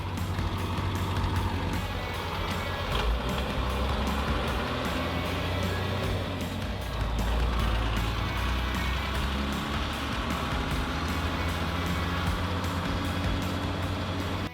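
Steady road rumble of a vehicle driving while its battery charges on the move, with continuous low engine and tyre drone throughout and no talk.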